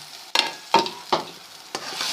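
Halwa with raisins and coconut being stirred and roasted in a pan: four distinct scraping strokes at irregular intervals over a faint sizzle, close up.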